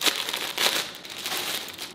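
Plastic parcel bag from an online order being opened and crinkled, a continuous close rustling and crackling with a few sharper crinkle bursts, no talking.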